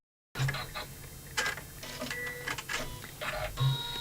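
An embroidery machine stitching a design onto a laptop bag, giving off an uneven run of whirring, clicking and short mechanical tones that sound close by, with no talk over it.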